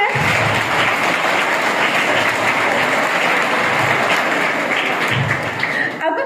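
Audience at a school event for National Mathematics Day applauding, a loud sustained wash of many hands clapping close up, holding steady throughout before easing at the end.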